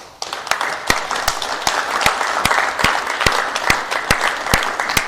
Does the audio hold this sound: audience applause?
yes